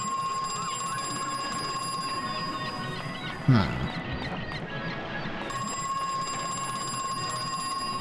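Steady, shrill electronic alarm ringing continuously in the horror video game Crow Country, briefly cut by a sudden thud and sweeping tone midway, then resuming; a voice murmurs once.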